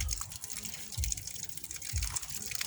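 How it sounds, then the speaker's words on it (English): Water splashing and running during Muslim ablution, with a steady wash broken by three louder low splashes about a second apart, fairly close and alone. "you then wash your feet, the right one first."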